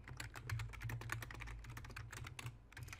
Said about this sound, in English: You're going to type your title.